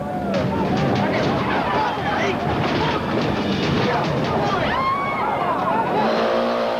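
Race cars roar past on a dirt track in Paraguay, lined by hundreds of fans. Engine noise fills the clip steadily and loudly, with crowd babble mixed into it.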